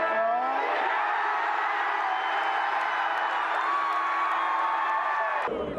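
Brisbane Lions cheer squad roaring after a premiership win, with a dense, sustained crowd of whoops, yells and cheering at full volume, steady throughout and cutting off abruptly at the end.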